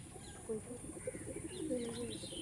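Giribaz pigeons coo softly in a loft, low throaty murmurs rising and falling over steady background hum, with faint chirps and a brief flutter in between.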